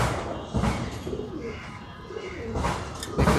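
A courting male pigeon at a pigeon market coos in repeated close, deep throaty bursts over a busy background of other birds.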